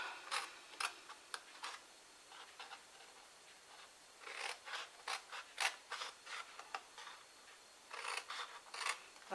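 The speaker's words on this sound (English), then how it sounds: "Then we're going to cut up these score lines." Scissors snip through card along score lines in quick, crisp bursts, close and quiet, with short pauses between clusters of cuts.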